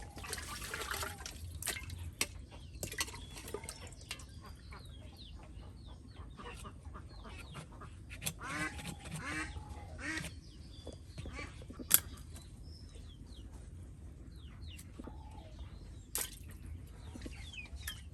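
Pieces of a large fish are washed by hand in a village kitchen, with soft intermittent water splashes and sloshing, while ducks quack and chickens cluck nearby throughout.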